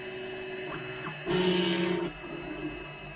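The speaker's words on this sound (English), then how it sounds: "So now it's laying down its guideline." An Anycubic i3 Mega 3D printer lays down its guideline with soft tonal stepper-motor whines, including one louder buzzing move of almost a second, all fairly quiet.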